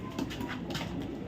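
Racing pigeons in a loft coo softly in a brief, low, murmuring burst, fairly faint against a light background hiss, with no voices.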